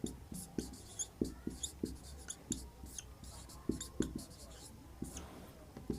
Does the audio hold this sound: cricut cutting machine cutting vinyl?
no